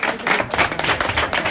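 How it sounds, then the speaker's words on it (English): Crowd applause and clapping at a vogue ball, a dense, loud burst of many hands with pulsing, slightly rhythmic swells, close and continuous throughout. "give Persia a round of applause"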